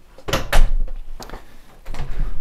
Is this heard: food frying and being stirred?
no